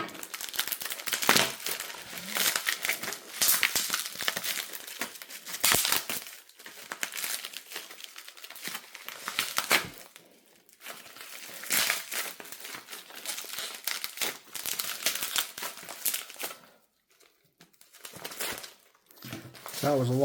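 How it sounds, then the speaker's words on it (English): Plastic film being cut and peeled off the packaging of a Nokia phone, heard as dense crinkling and crackling bursts in uneven stretches, close and fairly loud, with brief pauses between handling. "Trying to cut the actual film here."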